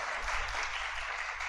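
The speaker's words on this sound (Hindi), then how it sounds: "बनारसी दास जी के लिए ताली बजाओ।" Steady applause from an audience at a youth convention religious talk in Delhi, a dense continuous wash of clapping that holds evenly from start to finish with no voices over it.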